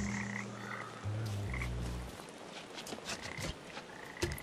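Frogs croaking in the Papo & Yo video game, a few deep drawn-out croaks up front, then a quieter mix of clicks and ambient game sounds.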